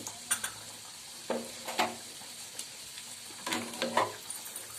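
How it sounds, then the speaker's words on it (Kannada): Raisins frying in ghee in a pan for godhi huggi, a North Karnataka wheat dish, with soft sizzling and a few sharp stirring scrapes and pops in two clusters, close and fairly quiet, no voices. "ಇದು ದ್ರಾಕ್ಷಿ ಸಿಡಿಯುತ್ತೆ ಸ್ವಲ್ಪ ಕೇರ್ಫುಲ್ಲಾಗಿ ಇದನ್ನು ನಾವು ಏನು ಮಾಡಬೇಕು ತುಪ್ಪದಲ್ಲಿ ಫ್ರೈ ಮಾಡ್ಕೋಬೇಕು"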